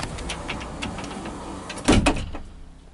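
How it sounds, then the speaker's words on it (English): The door of a Mercedes-Benz 614D 24-seater bus closes with a brief mechanical whir and a firm thud, heard close up, then the cabin goes quiet. "What happens if I close the door?"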